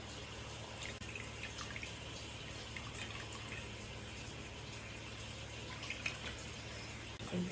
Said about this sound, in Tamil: just going to run it through water again